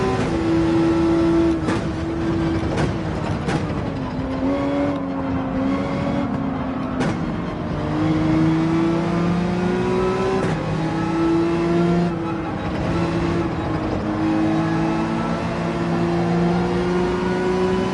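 Race car engines from Gran Turismo 7 at the Nürburgring, one loud close engine droning and revving through repeated gear shifts, with rising and falling pitch and sharp upshift clicks, steady for the whole stretch without talk.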